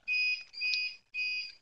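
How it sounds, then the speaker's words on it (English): Three short electronic beeps signalling a power loss, a steady high-pitched tone repeating with brief gaps, faint and alone in a quiet room. "you may hear some beeps in the background, and that means that I just lost power."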